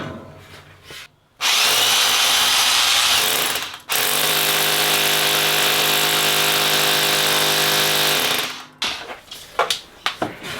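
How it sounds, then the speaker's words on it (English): A loud power drill grinds steadily into a concrete garage floor for several seconds, starting abruptly, briefly pausing, then running on before stopping amid clatter. "mark out exactly where the holes need to be drilled on the floor"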